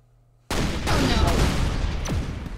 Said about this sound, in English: The explosion of death killed her.